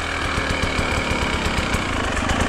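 A two-stroke motorcycle fitted with an oversized power-valve cover lugs at low revs, giving a steady, close, loud engine drone with a quick, rhythmic low-end pulsing throughout.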